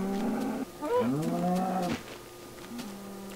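A cow in the Minecraft video game gives a long, deep, drawn-out moo, loud and near and heard clearly alone, then trails off into a quieter low lowing.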